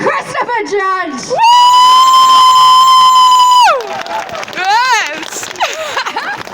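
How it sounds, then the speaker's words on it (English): Convention crowd at MCM Comic Con Manchester cheers for a guest, with a long piercing sustained scream and excited whoops rising over loud crowd noise. "you need to have a big, big round of applause for our next guest"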